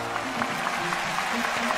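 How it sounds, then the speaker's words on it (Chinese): Applause for two performers at a televised Chinese talent event, a steady, dense clapping from a studio audience filling the short moment with even, continuous patter. "好，再次把掌声送给二位"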